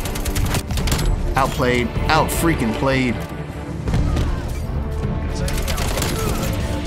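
AK-47 gunfire in Call of Duty: Black Ops Cold War, bursts of sharp, rapid shots with short pauses, loud and close, while someone talks over the shooting.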